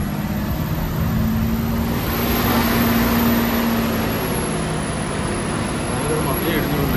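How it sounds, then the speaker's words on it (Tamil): A car pushes through landslide mud on a forest hill road near Sakleshpura, tyres spinning without grip, with a loud, steady engine drone and broad rumbling road noise that hold close and constant from start to finish. "அப்படியே டயர் சுற்றிக்கிட்டே வருது பாருங்க. மண்ணில் வண்டி கிரிப்பு கிடைக்க மாட்டேங்குது."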